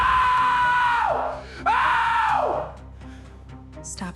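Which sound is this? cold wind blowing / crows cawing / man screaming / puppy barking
man screaming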